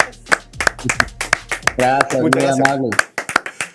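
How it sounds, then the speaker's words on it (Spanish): Studio audience applause for a guest on a Spanish-language science TV programme, heard as sharp, spaced claps under someone speaking close to the microphone. "un aplauso también a nuestro invitado por estar acá"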